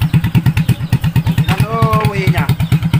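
An old, run-down motorcycle engine runs with a steady pulsing throb, close by, while people talk over it.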